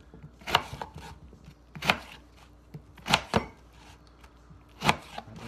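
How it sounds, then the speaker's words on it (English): A knife chops through a single lemon on a cutting board while making a detox tea with lemon and ginger, giving four sharp, loud, evenly spaced cuts about a second apart with no talking. "I've got the one lemon, so I'm gonna cut this one up."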